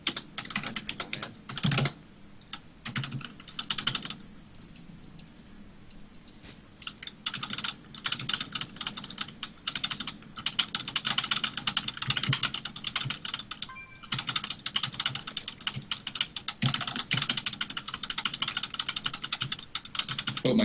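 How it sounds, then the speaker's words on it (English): Rapid, continuous clacking of a computer keyboard close up, bursts of fast keystrokes with brief pauses, no talking. "Hope my keyboard's not too loud."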